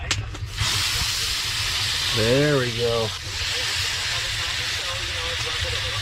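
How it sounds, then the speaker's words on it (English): Steaks frying in the Roblox video game, a loud continuous sizzling hiss lasting throughout, with a brief voice speaking at the start and a short tonal sound in the middle. "Let's check out those steaks and get those frying up."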